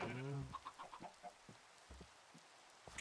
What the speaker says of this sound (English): Chickens, come hither, come on.